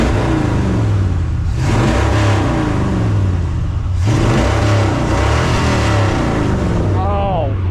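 Carbureted engine of a roughly 1978 Ford F-350 pickup revving in strong repeated surges over a loud rumbling idle, with people talking over it.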